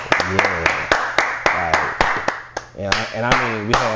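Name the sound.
hands clapping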